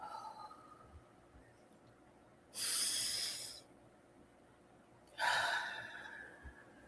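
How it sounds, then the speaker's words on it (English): Two long, breathy exhalations during a guided breathing exercise, each a soft hiss of air lasting about a second, quiet and near, separated by a hushed pause. "and exhale."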